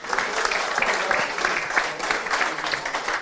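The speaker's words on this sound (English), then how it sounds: "Give them a round of applause, everybody" Steady applause from a crowd in a pub, dense and continuous clapping throughout with a lively, roomy feel.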